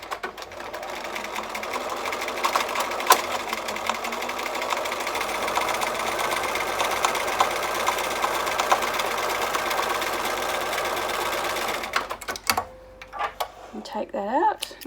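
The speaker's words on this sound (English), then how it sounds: "I'm going to start sewing from within the seam allowance so that when it's sewn into the side front panels, the smocking stitch will look continuous" A sewing machine stitches rows of smocking with double threads, running steadily and close for about twelve seconds before stopping, with a few brief voice sounds after it halts.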